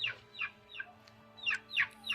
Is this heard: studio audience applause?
no